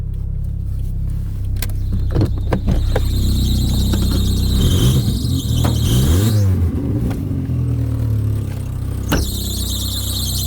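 A running VW Polo 1.4 engine idles with a drive belt squealing, sharp high whines rising and cutting off over a low engine rumble, with a few clicks and a burst of revving near the middle.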